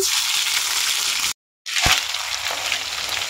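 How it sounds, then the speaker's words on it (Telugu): Ginger garlic paste hits hot oil left from frying chicken, a loud, close sizzle that cuts out briefly and then returns with a sharp crackle. "వేయించుకున్న ఆయిల్లోనే అల్లం వెల్లుల్లి పేస్ట్ వేయించుకుంటున్నాము"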